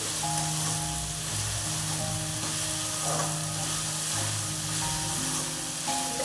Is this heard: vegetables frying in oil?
yes